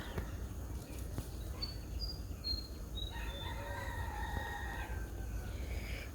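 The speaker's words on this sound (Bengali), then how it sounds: "মুরগিতে ডাক নইছে" A rooster crows in a misty village morning, several drawn-out calls carrying from some distance over a constant low rural background with insects chirping.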